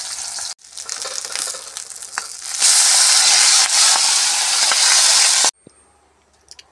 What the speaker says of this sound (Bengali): মাছগুলো আমি ফ্রাই করে নিচ্ছি